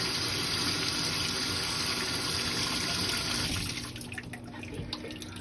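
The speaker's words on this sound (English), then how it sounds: "did you like the water running?" Water runs steadily from a bathroom tap during a baby's bath, a loud continuous gush that eases slightly near the end, with no voices over it.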